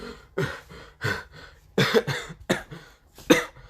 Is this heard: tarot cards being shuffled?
no